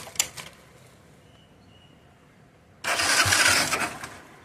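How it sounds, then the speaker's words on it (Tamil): A 110cc motorbike engine sits quiet after a brief click, then fires up abruptly and runs loudly and close for a couple of seconds before easing slightly. "இந்த வண்டி நம்ம ஸ்டார்ட் பண்ணி இந்த நாய்ஸை பார்க்கலாம்"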